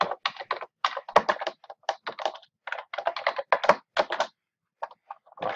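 Quick bursts of keystrokes as code is typed on a computer keyboard for an R script, close and crisp, with short pauses between runs of clicks.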